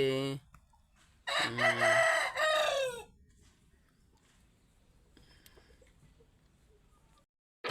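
A country rooster at a poultry farm gives one loud, close crow lasting a couple of seconds, followed by quieter scattered clucks from hens and a stretch of near silence.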